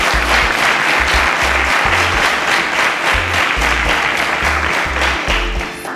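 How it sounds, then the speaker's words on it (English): An audience claps steadily for about six seconds. The applause is dense and continuous, with a rhythmic low thumping underneath, and it fades slightly at the end. "A round of applause for Israel."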